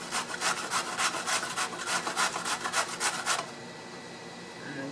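Bottle gourd, or opo squash, rubbed against a grater for shrimp fritters: close, rhythmic rasping strokes repeat about twice a second for over three seconds, then give way to quiet background.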